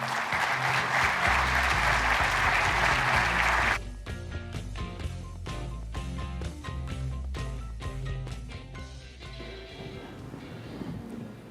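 Audience applause at an engineering convention panel, a loud, sustained wash of clapping for about four seconds that cuts off abruptly as music takes over.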